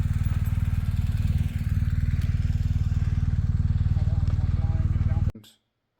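A motorcycle engine running loud and close on an adventure trail, a steady rapid thumping drone that cuts off abruptly near the end, with talk heard.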